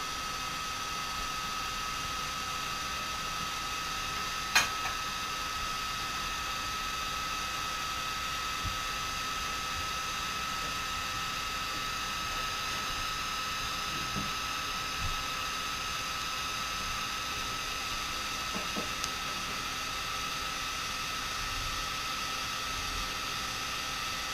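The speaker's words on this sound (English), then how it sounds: "I got a heat gun and we're going to try to bend this thing." A heat gun blows steadily on a Viking horn mug, a constant airy whoosh and hum that runs the whole time with only a couple of faint clicks.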